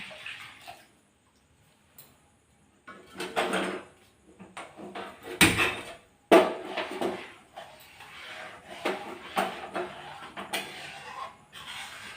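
Milk poured into jackfruit juice for jackfruit payesh, heard as several short liquid splashing bursts with pauses and a brief silence early on, moderately loud and close, with no talking.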